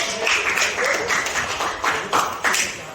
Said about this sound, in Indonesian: makasih sudah tepuk tangan